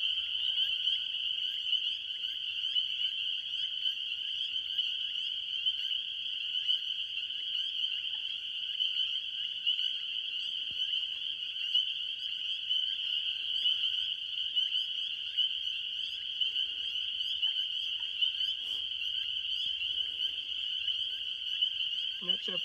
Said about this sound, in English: Leopard frogs have that kind of a snore sound, kind of.